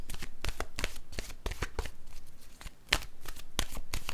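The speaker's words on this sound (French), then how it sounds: "Je vais piger une carte de mon oracle de l'âme intuitive" Oracle cards being shuffled before one is drawn: a steady run of riffling card snaps, close and fairly loud, with a brief lull near the end before the flicks resume, no talking.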